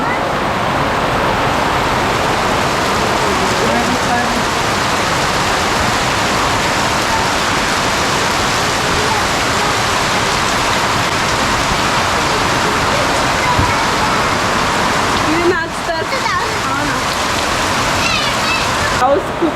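Heavy, steady rain pours down in a dense continuous hiss, with a brief louder clatter near the end and a voice speaking under it.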